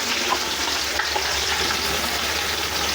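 Small shallots dropped into hot oil for mutton biryani, a steady broadband sizzle running loud and continuous with faint stirring clicks underneath and no talking.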